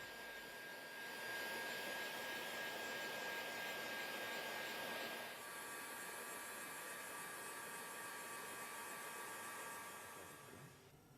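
A heat gun blows hot air onto vinyl film being applied to a van, a steady hissing blower whoosh that brightens for a few seconds, then settles and fades out at the end.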